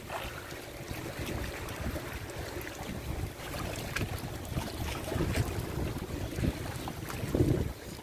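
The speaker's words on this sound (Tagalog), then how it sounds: "Sobrang alon ngayong araw na to." Rough sea and strong wind batter an offshore fish pen, with constant wind rumble on the microphone, sloshing waves and occasional knocks and splashes.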